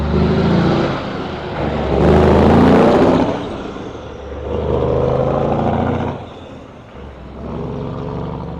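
A heavy truck rumbles past on a street in an industrial city, its loud, close engine swelling and fading in waves as it accelerates and shifts, with no talking.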